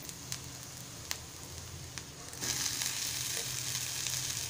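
Onion fries in oil in a pan, with a soft crackle and a few clicks of stirring before the sizzle swells sharply louder and carries on steadily.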